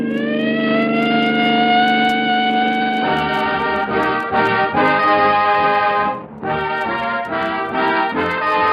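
A loud police car siren wails steadily, then breaks into rapid rising and falling warbles, close and continuous with no talking.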